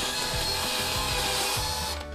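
A power drill spins a dryer vent cleaning brush inside a vent duct, a steady whirring motor drone with slight wavering pitch that runs throughout and eases off at the end.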